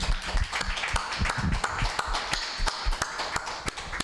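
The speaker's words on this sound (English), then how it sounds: "We're going to give you a applause." Audience applause at a sexual and reproductive healthcare platform launch, a small group clapping steadily and unevenly at close range for a few seconds with sharp individual hand claps audible.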